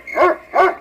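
Two quick, loud barks from a dog, close by, with a short pause between them and nothing else heard.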